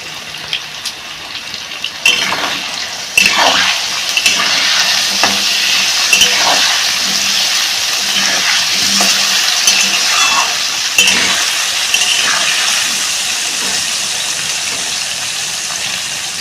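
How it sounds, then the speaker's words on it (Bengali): Potato pieces fry in hot oil in a pan for a Bengali young-jackfruit curry, a steady close sizzle broken by scraping stirs and the clack of a spatula against the pan. "আলুটা দিয়ে দিচ্ছি আলুটা প্রথমে ভেজে নেবে দিয়ে নুন হলুদ"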